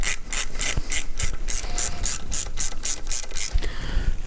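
Screws are driven loosely into a sliding bracket on an AFC Live kit, producing a close, steady run of ratcheting clicks and short mechanical bursts with no talking.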